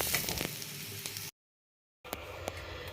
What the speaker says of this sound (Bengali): এখন আমি পোলাও চালটা ভেজে নিচ্ছি